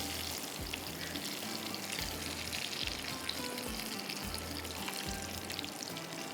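Fried besani roll lifted out of hot frying oil, with a steady bubbling sizzle throughout and faint scraping of a utensil, fairly quiet and continuous with no voices.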